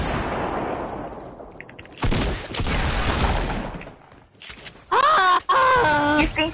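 A sniper rifle shot in an online shooter game, with sharp gunfire bursts cracking loudly through a noisy battle mix that carries a groaning, wailing sound, and tonal game effects near the end.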